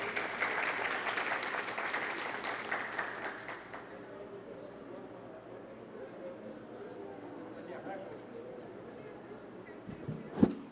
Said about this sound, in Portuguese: Uma salva de palmas para nosso palestrante.